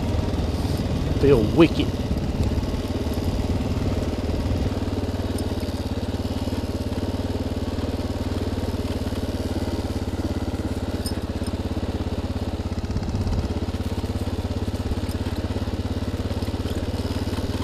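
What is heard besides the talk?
dirt bike engine on forest trail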